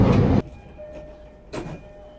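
An orange-line commuter train in Japan passes, heard from inside a carriage or platform as a loud rumbling rush that cuts off abruptly, followed by quieter hum, faint tones and a brief swell of rail noise.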